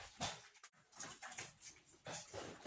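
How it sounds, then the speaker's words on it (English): Excited dogs whimper and whine in a steady, restless stream of high, breathy sounds, fairly close, with no speech. "the dogs are getting excited"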